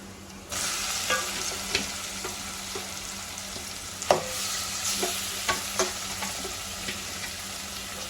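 Chicken pieces dropped into a pan of browned onions for a country-style chicken curry start sizzling steadily up close, with occasional clinks and scrapes of stirring over the frying.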